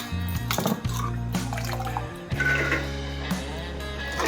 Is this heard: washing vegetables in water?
yes